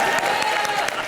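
Studio audience applause at a live comedy show, a short steady burst of clapping filling the room with a faint voice underneath.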